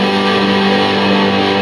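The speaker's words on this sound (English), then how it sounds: "Even with that distortion on" Heritage Big Kahuna electric guitar strumming a sustained chord through heavy distortion, a loud, dense, buzzing wall of tone that rings steadily with no break.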